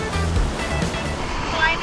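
Waves on Lake Ranau slosh and break close by, a continuous rushing wash of water with a voice talking over it.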